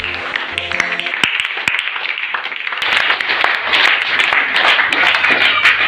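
Congregation in a church service claps and applauds for Jesus, a dense, steady wash of many hands that grows slightly fuller partway through, with scattered sharper claps standing out.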